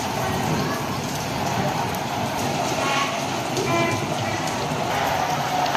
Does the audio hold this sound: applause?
no